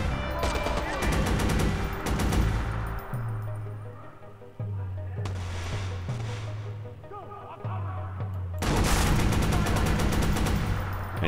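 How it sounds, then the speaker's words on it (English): Machine gun fire in the video game Watch Dogs Bad Blood DLC comes in loud rapid bursts at the start and again near the end, with quieter game sounds and low tones filling the gaps. "it's a machine gun"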